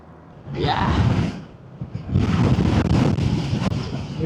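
Strong gusting wind blasts across the microphone outdoors by a pine forest cabin in Malico, San Nicolas, Pangasinan, roaring loud in two long surges with a brief lull between.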